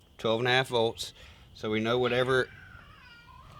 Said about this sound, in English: That's my cat. He's going nuts over there for some reason.